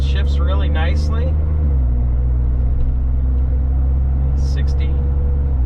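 A loud, low engine hum drones steadily inside a 2014 Ford F-150 EcoBoost 3.5 pickup at half throttle, the pitch dropping briefly early on as it shifts gear; a few faint high squeaks occur.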